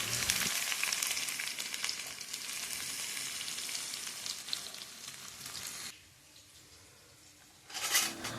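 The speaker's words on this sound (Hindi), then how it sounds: "जैसे तेल में ये लहसुन थोड़ा सा ब्राउन होना चालू होता है" Garlic and finely chopped onion frying in oil, a steady close sizzle that drops away for a moment then briefly swells again.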